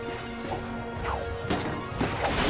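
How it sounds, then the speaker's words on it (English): Wooden crates being smashed in the video game Ratchet & Clank, a few sharp crashing breaks in quick succession over a steady background game hum. "Look at him smashing crates."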